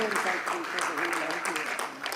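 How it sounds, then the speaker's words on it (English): An audience at a dry fruit and nut industry conference applauds in a brief, steady round of clapping after a fireside chat, with speech carrying over the top. "Let's give him a warmer round of applause."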